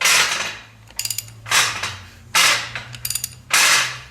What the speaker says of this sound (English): And that noise you hear is a flex plate coming in contact with this guy.